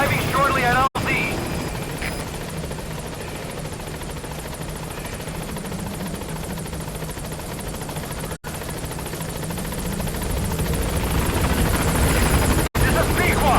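A helicopter in Metal Gear Solid V approaches a landing zone, its rotor thumping and buzzing loudly and steadily while radio voices talk over it, broken by a few sharp cuts.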